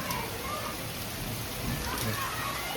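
Heavy rain pours steadily over flooded residential lanes in Ganganagar during the first monsoon downpour, a dense, continuous hiss with no pauses and no talk.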